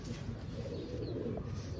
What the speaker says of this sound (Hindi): ब्रांडेड फिरोज़पुरी कबूतर।